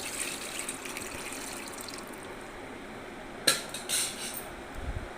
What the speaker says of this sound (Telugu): ఆరు గ్లాసులు వాటర్ తీస్తాను